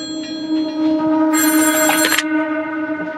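A telephone rings over a steady droning background, with one bright, buzzy ring burst of under a second standing out in the middle.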